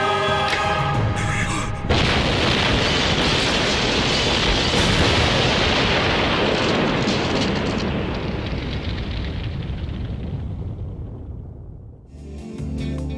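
A massive explosion blows up a building in the English dub of Death Note, a sudden loud boom that swells into a long, roaring rumble of debris, fading slowly over about ten seconds.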